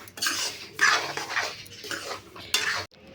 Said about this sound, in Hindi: यहाँ पे मैं बना रही हूँ हलवा, उसके लिए मैंने सूजी भून रही हूँ